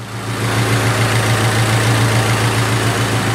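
A Nissan S14 car engine idles steadily nearby, a loud, even low rumble with a constant hum and no voices over it.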